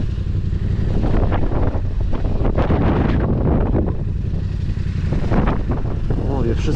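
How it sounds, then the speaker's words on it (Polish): Strong wind buffeting the microphone outdoors beside a Yamaha Raptor 700 quad, a steady loud roar throughout with a person talking intermittently underneath. "żeby nie ten wiatr."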